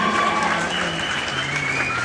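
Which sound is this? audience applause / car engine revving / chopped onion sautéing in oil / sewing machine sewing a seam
audience applause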